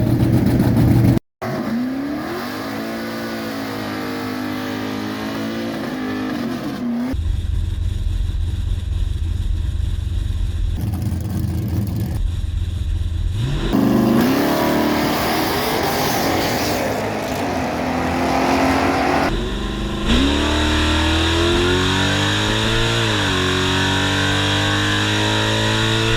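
A naturally aspirated 496 drag car running on race fuel roars down the strip at Thunder Mountain during Drag Week. The engine is loud and close, rising in pitch through each gear with brief drops at the shifts.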